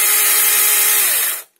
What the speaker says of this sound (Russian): что у нас пила куда шустрее начала работать